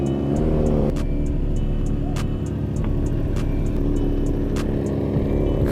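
A track motorcycle engine runs loud and close, a rough steady idle with a quick blip of revs at the start and sharp ticking mechanical clatter riding over the rumble.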